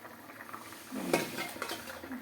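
Fried khoira fish being added to a simmering curry with potato and eggplant, a soft splash and sizzling stir midway over a steady low bubbling, close and moderate.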